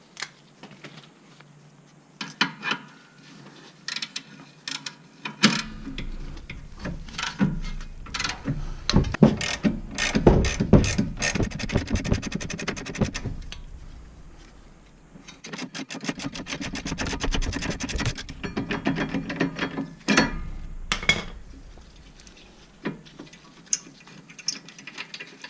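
Ratchet wrench clicking in rapid bursts while loosening the rusty top caliper bracket bolt on a 2010 Toyota Camry's rear brakes, with metallic ratcheting and clanks close by, pausing and resuming over the span.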